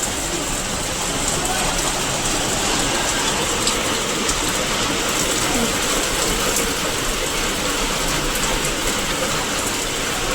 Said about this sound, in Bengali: পুরো সাদা হয়ে বৃষ্টিটা পড়ছে।